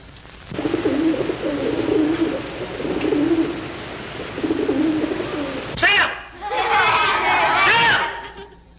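Pigeons coo in low, repeated throaty murmurs, then people start talking loudly over them.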